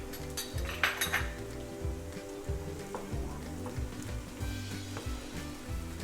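Onions frying in a pan with ginger garlic paste being stirred in for chicken ghee roast: a steady sizzle up close with repeated scraping and clinking of the stirring utensil.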